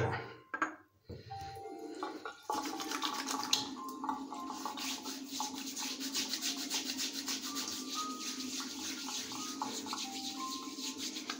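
A Semogue shaving brush rubs steadily and closely against soap to work up a lather, making a continuous wet, squishy swishing with a brisk scrubbing rhythm that follows a brief pause at the start.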